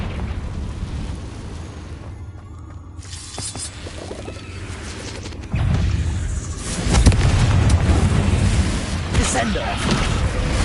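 A Confringo fire spell in Hogwarts Legacy, cast inside a cave, bursting into a rumbling explosion that swells and sustains under a spoken voice amid clattering effects.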